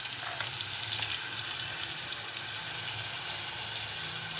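Garlic paste frying in hot oil, giving a loud, steady hiss and crackle that runs without a break from start to finish, close to the listener, with no talking.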